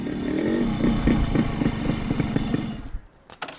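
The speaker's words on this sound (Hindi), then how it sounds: "बाइक चकाचक होते ही हम चल पड़े डॉन के घर।" A motorcycle engine rumbles and sputters close by in a film scene, then pulls away and fades, followed by a couple of sharp clattering knocks.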